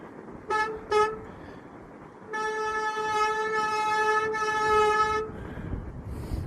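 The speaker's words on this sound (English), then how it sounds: "It's just my back brake making the noise." A high, tonal bicycle rear brake squeal rings out in two short bursts, then a longer sustained squeal of about three seconds over background rumble.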